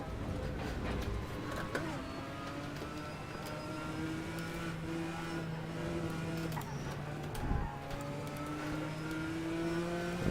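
Lotus Evora GTC racing car in Assetto Corsa on the Nordschleife, engine droning steadily with rising and falling revs and short throttle blips on downshifts, close and continuous for the whole stretch.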